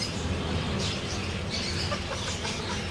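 Chickens of assorted breeds cluck continuously at a farm in Batticaloa, a dense, busy chorus of overlapping calls heard close with no pauses.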